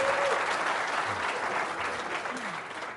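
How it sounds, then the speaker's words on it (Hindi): Studio audience applause on a Pakistani television talk show, a fairly steady wash of clapping heard at moderate distance, slightly thinning toward the end. "तालियां बजाए फिर अपना जवाब चाहिए तो"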